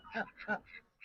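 A female harlequin duck gives a few soft, nasal quacks in quick succession, close and quiet.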